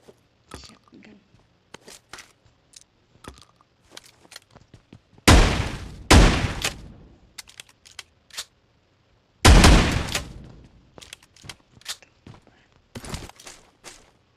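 Two loud, booming shotgun blasts from PUBG Mobile stand out among scattered clicks and light tapping, with soft talk in between.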